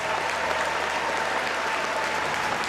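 A tennis crowd at the 2012 ATP Cincinnati final applauds Novak Djokovic in a dense, even wash of clapping that holds steady throughout, with no voices standing out.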